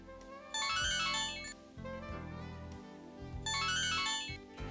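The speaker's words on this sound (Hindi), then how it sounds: "सर मेरे ख्याल से आपका मोबाइल बजा।" A mobile phone rings with a repeating electronic ringtone melody, steady and continuous in an indoor scene, with no talk over it.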